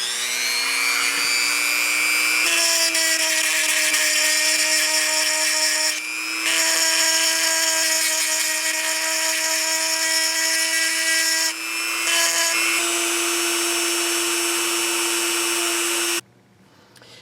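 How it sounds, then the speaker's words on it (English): A Dremel rotary tool grinds the edges of glass pendants and earrings with a steady high-pitched whine, pausing briefly a couple of times before the motor stops near the end. "So let me show you how I'm going to grind them with my Dremel."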